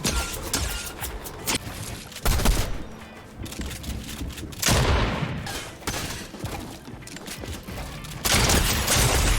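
Rapid video game gunfire in a Fortnite arena match, bursts of sharp shots and fusillades coming in clusters with brief gaps, loud and close.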